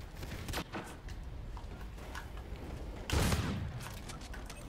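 The M.2187 Salvo shotgun fires in a video game. One heavy, faint blast stands out amid quieter gunfire and game noise at a low overall level.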